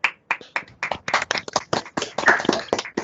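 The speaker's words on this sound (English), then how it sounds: "we will get up and we'll give these people a big round of applause" Hands clap in brisk, uneven applause from a small group during an online conference, a few seconds of close, dry clapping with no talk over it.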